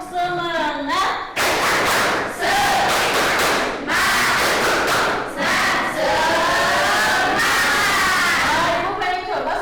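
A classroom of students performs the rhythmic 'tepuk semangat' clapping chant, loud group shouting and chanting with bursts of clapping and thumps filling the whole clip in repeated phrases.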